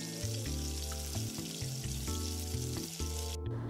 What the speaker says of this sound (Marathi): आता तेल गरम झालेलं आहे, याच्यामध्ये कट केलेल्या वड्या आपण फ्राय करायला सोडूया